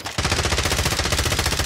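Rapid automatic gunfire in Call of Duty Rebirth, a loud, close, continuous burst of evenly spaced shots lasting under two seconds.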